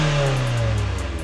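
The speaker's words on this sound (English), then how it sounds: "this is a stock exhaust on this car and it sounds very," A Mazda MX-5 on its stock exhaust revs briefly, a smooth, fairly loud mid-pitched engine note that climbs and then holds, with no voices.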